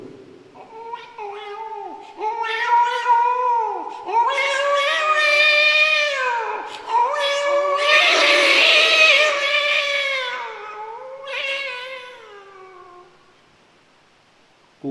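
A human voice imitates fighting cats, with long wavering yowls and caterwauls rising and falling in pitch, loud and close, ending in a short pause.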